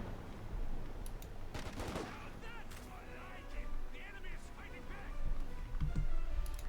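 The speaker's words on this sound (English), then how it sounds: "Baker's probably covering fire here from a nearby blown out warehouse building." Gunfire and explosions rattle across a battlefield in the strategy game Company of Heroes 2, scattered bursts and booms heard beneath steady commentary.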